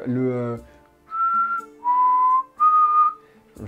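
Someone whistles a short tune, a few sustained notes with brief pauses between them, close and clear.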